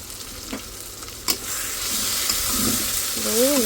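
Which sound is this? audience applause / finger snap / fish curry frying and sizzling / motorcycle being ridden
fish curry frying and sizzling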